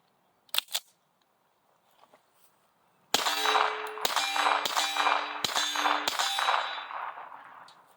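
Five suppressed 9mm shots from a TSUS 1911 DS pistol through a Dead Air Wolfman suppressor with 124-grain Monarch ammo, each a sharp crack with a metallic ringing tail, fired in quick irregular succession after a few faint clicks.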